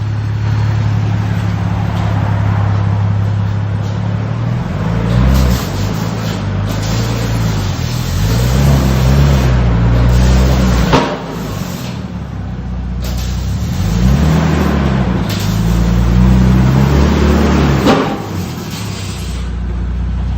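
A 1992 Nissan Skyline R32 with a 24-valve engine and resonator-deleted exhaust revs repeatedly up close, loud rising and falling pulls roughly every few seconds over a steady idle.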